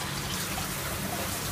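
Water streaming through the 200-micron screen of an aquaponics drum filter, a steady low rushing wash with no pauses, close and moderately loud.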